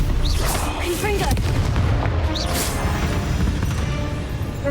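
Repeated booming blasts from the Confringo fire spell in Hogwarts Legacy, loud and dense, overlapping with battle clatter and shouted spell names in a spider-filled fight.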